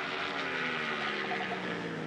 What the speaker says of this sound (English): Just hear the engine brake.